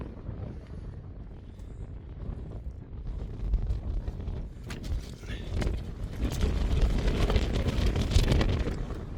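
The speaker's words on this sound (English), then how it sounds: "Wind's picking up as well now, just to add to the mix." Wind gusting on a mountain climb up Scafell Pike, a steady rushing buffet on the microphone that swells louder and rougher toward the end.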